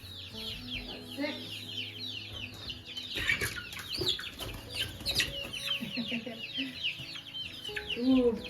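Black Copper Marans chickens cluck and chatter continuously up close in a busy flock, with overlapping calls and bursts of louder squawks near the end; some faint background voices mix in.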